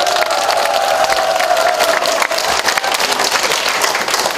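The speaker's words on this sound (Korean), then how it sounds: "다시 한번 큰 박수 부탁드립니다." Audience applause at a city mayor's New Year community dialogue with residents in a civic hall, a dense, steady wash of many hands clapping that holds evenly loud throughout, with crowd noise and a faint sustained tone underneath.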